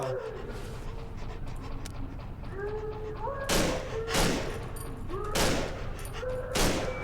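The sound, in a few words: dog in the video game Cry of Fear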